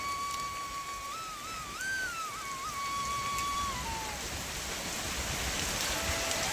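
Heavy monsoon rain falling in a soft continuous hiss by a riverside temple, with a faint high whistling tone drifting over it.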